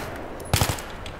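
A quick burst of automatic gunfire from the video game Battlefield 3 in co-op play: three or four rapid, loud close shots in about a fifth of a second, set against a low background hiss.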